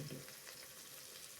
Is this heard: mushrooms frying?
yes